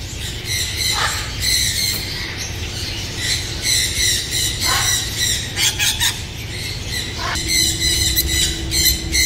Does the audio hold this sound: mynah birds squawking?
yes